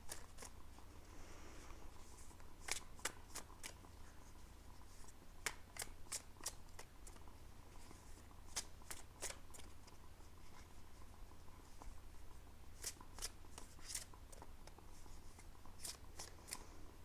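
Tarot cards are shuffled by hand in a quiet room, producing a faint steady riffle broken by many sharp snapping flicks that come in scattered clusters.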